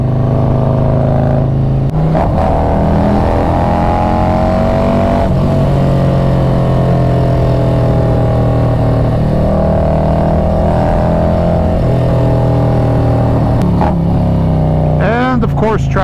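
A Harley-Davidson motorcycle engine runs in cold air, a loud, close, steady low rumble with shifting pitch as it revs and accelerates, and brief gear changes along with traffic noise around it.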